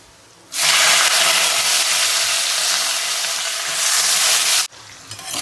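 Thin-cut potato slices for batata poha sauté in a hot pan, a loud, even sizzle that starts suddenly and holds for about four seconds with stirring scrapes, then cuts off abruptly.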